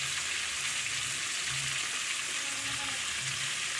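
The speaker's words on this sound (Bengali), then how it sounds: "কড়াই তেল দিয়ে তারপরে একটু কালো জিরে আর কাঁচা লঙ্কা সম্বরা দিয়ে পেঁয়াজ কলি ভাজবে" Nigella seeds and green chili sizzle in hot oil in a wok, a dense, even frying hiss heard up close and uninterrupted throughout.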